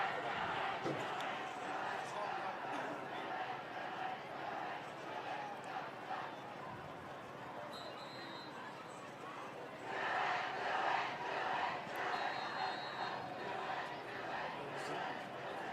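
High school football student cheer block chanting in the stands at a Noblesville vs Westfield game, a distant crowd roar with rhythmic shouting that swells midway, heard under an announcer's commentary.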